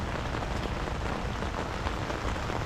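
Heavy rain pours down steadily during a fishing trip, a dense, loud, unbroken hiss of drops drumming on surfaces nearby, with no voices.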